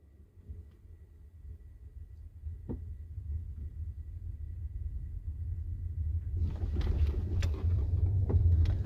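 A car engine catches and settles into a steady rumble after a push start in second gear down a gentle slope, with a low hum throughout and rising mechanical clatter in the final seconds.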